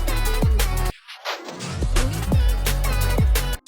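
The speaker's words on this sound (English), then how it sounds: "you get this lovely Autobots transition" A synthesized Autobots-style transition effect, with the pitch shifting and a high-pass filter sweeping upward through the mix after a short musical passage, then the full music returning; no talking.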